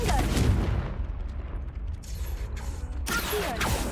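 The Confringo blasting spell in the game Hogwarts Legacy, cast in a magic duel: rumbling game noise followed by two sharp, bright bursts, the second louder and longer, with low background hum throughout.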